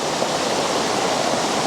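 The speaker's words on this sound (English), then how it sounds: "I've never actually photographed the waterfall from this angle before" A river waterfall seen from downstream in autumn, a dense unbroken roar of falling water, steady and fairly loud throughout, with no other sounds or voices.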